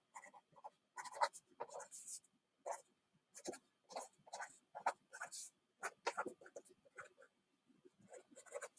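Handwriting on paper or a board while working through a pizza cost math problem: a close series of short scratchy strokes in uneven rhythm, faint overall, with no clear talk over it.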